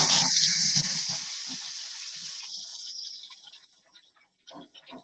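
Tap water runs and splashes over hands being rinsed in a kitchen sink, a steady gush that tapers off into quieter drips and splashes near the end.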